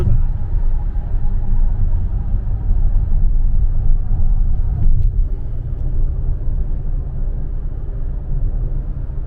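A car engine rumbles loudly and steadily during driving, a continuous low drone with road noise and no voices.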